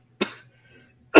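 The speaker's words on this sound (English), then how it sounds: "I'm the only one that should be dying of coughing here, not you" Two sharp, close coughs about a second apart, each a short harsh burst with a quiet gap between them.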